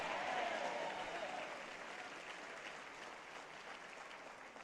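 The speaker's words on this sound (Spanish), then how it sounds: "Apláudale, apláudale, apláudale." A church congregation applauds during a sermon, a broad wash of clapping and cheering that starts loud and slowly eases off, heard from some distance in a large room.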